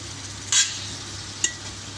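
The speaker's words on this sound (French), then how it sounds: "laisser le temps au poisson et à l'oignon de vraiment bien cuire" Fish and onion frying together for an okra sauce, a constant hissing sizzle with two sharp louder spits or pops standing out, close to the pan and without talk.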